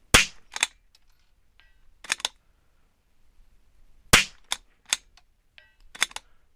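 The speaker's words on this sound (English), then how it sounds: "So you guys hear the impacts here." Sharp .22LR rifle shots ring out at a long-range steel target course, each crack spaced a second or two apart with the faint clang of steel impacts following, loud and close with no talking.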